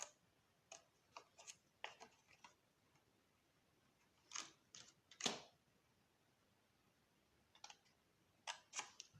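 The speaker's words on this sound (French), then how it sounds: "Donc, je prends une petite paire de ciseaux." A small pair of scissors snips through paper while a folded, glue-free candle box is being made. The quiet, crisp cuts come in irregular clusters with pauses between them, and no one speaks.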